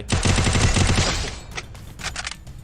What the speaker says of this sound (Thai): ได้ยินเสียงปืนพี่ไหมน้องชาย